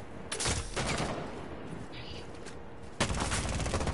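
Rapid gunfire bursts from a Rainbow Six Siege scrim match, loud and dense in two volleys with a sharp renewed burst near the end, a voice faintly present underneath.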